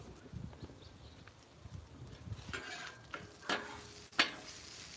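Bacon and scrambled eggs cook on a Blackstone flat top griddle, giving a low, steady sizzle with scattered spatula scrapes and a couple of sharp metallic clacks near the end.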